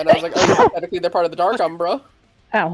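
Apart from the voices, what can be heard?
sneeze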